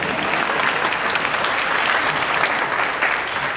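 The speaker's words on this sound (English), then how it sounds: "It's okay to clap." Loud, sustained clapping from an audience at an MLK Day program, a thick, even roar of many hands that holds steady for several seconds.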